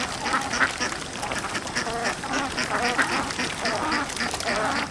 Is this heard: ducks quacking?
yes